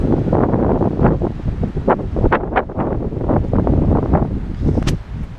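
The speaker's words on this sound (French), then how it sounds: "Oh, il y a un masse de vent." Strong wind buffeting the microphone in loud, continuous gusts, with a roaring low rumble throughout and no voices.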